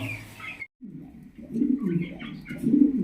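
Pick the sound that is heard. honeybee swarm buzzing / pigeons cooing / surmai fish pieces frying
pigeons cooing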